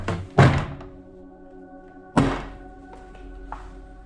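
Door in a building in central Krakow thudding shut, two heavy thunks a couple of seconds apart, each with a ringing metallic decay, heard close with no talk.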